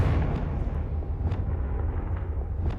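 A Confringo blasting spell erupts in Hogwarts Legacy with a deep booming explosion, followed by a few sharp, crackling bursts and pops scattered across the rumbling low end.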